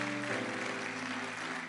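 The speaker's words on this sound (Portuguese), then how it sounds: "Pode dar uma salva de palmas." Applause from a church congregation during a sermon, steady and fairly soft, with a sustained tone underneath, as if music plays beneath the clapping.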